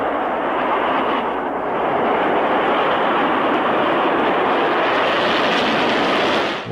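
An anti-missile missile lifts off from Vandenberg in a loud, sustained rocket roar. It swells slightly and holds steady, then cuts off abruptly at the end.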